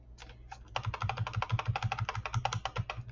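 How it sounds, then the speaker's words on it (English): Typing on a computer keyboard to enter an all-uppercase title, heard as a steady run of close, crisp key clicks starting after a quieter opening second, with no talking. "I'm going to type all uppercase"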